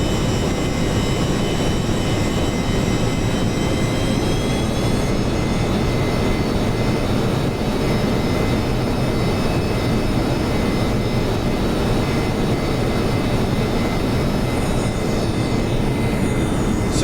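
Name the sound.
B-1A bomber jet engines taxiing in flight simulator game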